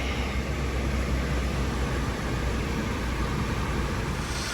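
A 2014 Hyundai Santa Fe idles with its air conditioning running at maximum cold, giving a steady, close broadband engine and blower roar with no break and no one talking.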